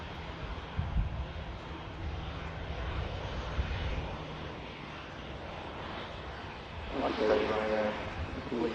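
A BA airliner taxis at Manchester Airport, its engines a low, distant hum that swells slightly toward the end, with a faint voice talking over it.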